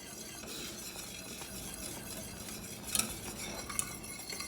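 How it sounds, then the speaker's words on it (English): Hollandaise sauce thickening in a pot on a switched-off burner gets a steady, continuous stir, the spoon scraping and swishing close by with a couple of sharper clinks near the end. "go ahead and shut the burner off and just keep stirring as it thickens."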